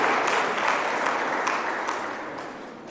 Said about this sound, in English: Let's give her a big one, a big round of applause.